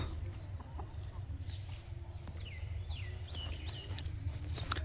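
Chickens in a hen house on a small farm give scattered clucks and short rising calls over a steady low rumble, moderately close and fairly faint.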